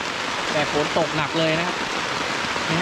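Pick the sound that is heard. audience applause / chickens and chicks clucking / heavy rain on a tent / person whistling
heavy rain on a tent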